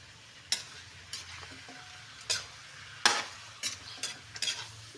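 Chicken adobo fries in a pan with a soft, steady sizzle, broken by several sharp stirring scrapes and clacks of a utensil against the pan at irregular intervals, close and clear with no talking.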